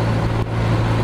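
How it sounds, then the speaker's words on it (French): A truck's engine drones steadily on the road close by, a loud low hum with road noise that barely changes over a second. "Sacré camion ça."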